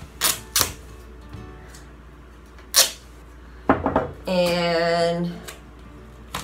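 Duct tape pulled off the roll while making an indoor fruit fly trap, a drawn-out ripping screech after several sharp clicks and taps, with a brief spoken word.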